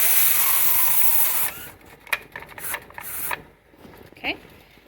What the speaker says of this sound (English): so now we're going to close this screw